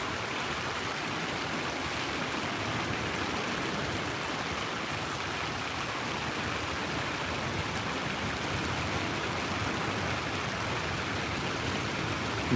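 Creek water pours onto a Northern California beach, a dense, continuous rushing wash that stays steady and loud throughout.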